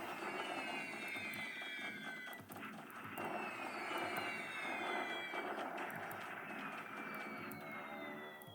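Dive bombers attacking in the War in the Pacific strategy game, with overlapping descending engine whines and sharp bursts of impacts repeating throughout, steady and moderately loud with no talk.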